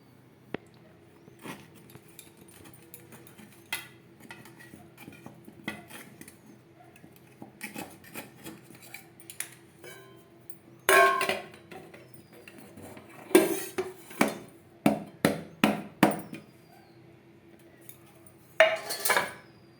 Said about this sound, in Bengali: তার আগে একটা চামচের সাহায্যে চারদিকটা ছাড়িয়ে নেব